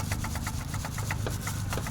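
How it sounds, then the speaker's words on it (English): A Peugeot 308 VTi120 EP6 engine idles steadily with a rapid, regular ticking knock from worn piston rings, repeating about five times a second, close and continuous throughout. "The engine is shaking, so there's a clearance here."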